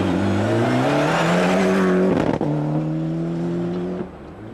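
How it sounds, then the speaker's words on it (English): A Ford Escort rally car powers along a rally stage, its engine loud and near with a rising note, a sharp gear-change break midway, then a steady drone that fades toward the end. "Another car easily spotted is the Escort of Kevin Curran."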